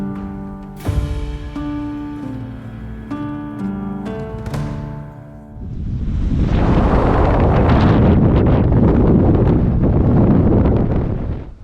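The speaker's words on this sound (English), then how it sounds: "that wind is really picking up" Strong wind picking up at a Lake District wild campsite in March, a loud steady rushing roar that swells in after a few seconds of quieter tonal sound and then blows continuously, buffeting close to the microphone with no talk.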